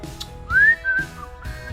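A person whistles a few short, clear rising notes in a quiet room, close and fairly soft, with brief pauses between phrases.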